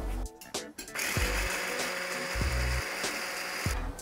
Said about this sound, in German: Und jetzt schlage ich das Ganze auf.